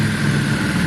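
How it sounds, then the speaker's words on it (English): A Yamaha Virago 535 motorcycle engine runs close and loud in a steady, rumbling idle; no distinct exhaust pops stand out in this brief moment. "There's a bit of a pop in the exhaust, just kind of pop, pop."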